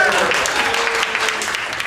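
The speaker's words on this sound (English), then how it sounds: "let's give me a round of applause" Audience applause at a movie Q&A, a loud, dense burst of clapping with faint voices mixed in that holds steady for a couple of seconds.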